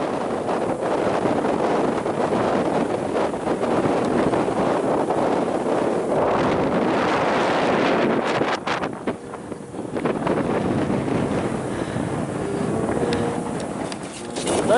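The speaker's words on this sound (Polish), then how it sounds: "Wichura się zrobiła." Strong gusty wind on a Jura cross-country ski trip in Poland buffets the microphone in heavy, continuous roaring gusts, briefly easing midway before surging again; no clear talk.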